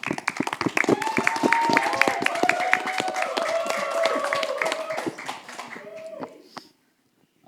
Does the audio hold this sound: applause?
yes